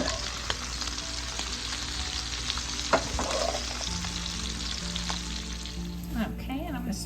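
Sausage sizzles with Cajun black-eyed peas in a nonstick pan, a steady frying crackle with occasional clicks from a slotted spoon and a faint voice near the end.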